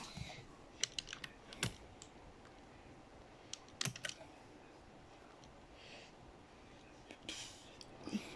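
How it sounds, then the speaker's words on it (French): Scattered keyboard keystrokes, a few quick clicks at a time with pauses between, close and fairly quiet over a low background hiss. "si vous entendez le clavier, c'est normal du coup"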